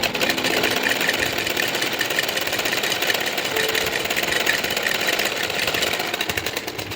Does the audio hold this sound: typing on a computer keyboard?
no